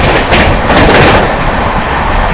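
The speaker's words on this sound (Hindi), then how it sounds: "गाड़ी अपनी पहुंच चुकी है मिर्जापुर रेलवे स्टेशन" Train rolling into Mirzapur railway station, a steady broadband rumble of rail cars with faint clickety-clack rhythm, loud and continuous throughout.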